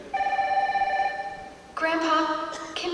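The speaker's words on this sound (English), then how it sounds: "I'll get it. It's probably for me. I've been expecting a phone call." A telephone rings in a staged stage drama, with sustained bright tonal bursts in two separate rings, the second louder and richer, fairly close and with no talk over them.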